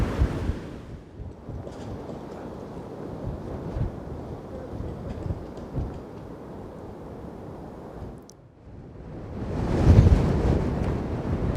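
Strong gusts of wind buffet the microphone by a canal aqueduct, a rough low roar that drops away briefly before surging loudly again.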